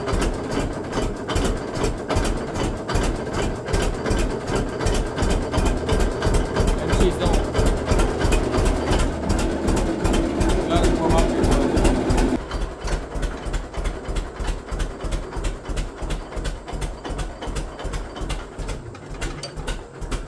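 An old 620 engine runs with a loud, steady, rapid chugging beat that eases back to a lighter idle rhythm partway through, close by and continuous throughout.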